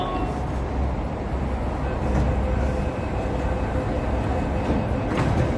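Steady low rumble of a Hong Kong MTR train idling at Racecourse Station platform, with a hum and faint hiss of doors and ambient station noise, no talking.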